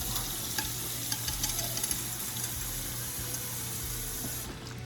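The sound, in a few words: water poured in to soak Vortech powerheads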